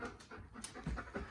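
Farm dog Harley pants in quick rhythmic breaths close by, with short huffs and light movement noise.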